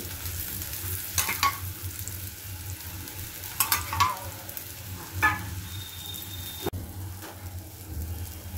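A besan pancake frying in oil in a pan, with a steady sizzle broken by several scraping strokes of a spatula and a brief clatter.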